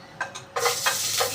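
Garlic sautéing in a hot pan for chicken tinola, a hissing sizzle that starts after a couple of faint stirs and then stays steady and close, swelling in bursts as it is stirred.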